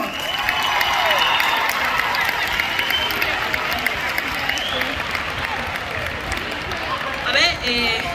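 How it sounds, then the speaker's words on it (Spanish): A large festival crowd at an outdoor pop concert claps and cheers, a broad roaring wash of applause with shouts and whistles, while a voice talks over it near the end. "vamos a pedir un fuerte aplauso para esta gente ahora mismo"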